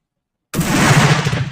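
A single loud gunshot from a Werndl 1867/77 rifle, bursting abruptly out of silence and trailing into a booming outdoor echo.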